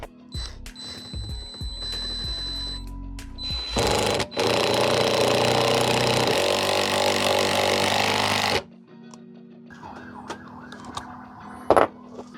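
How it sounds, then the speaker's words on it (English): An M6 bolt with a 12mm head is driven into construction lumber by a cheap TEMU power driver, giving a loud, steady whirring grind of about four seconds after some shorter bursts, then a quieter stretch. "The first bolt we're going to drive is I think it's an M6 bolt with a 12mm size head to it"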